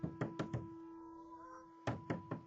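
Knocking on a door: two bursts of three sharp, close raps separated by a pause of about a second, with a faint steady hum underneath.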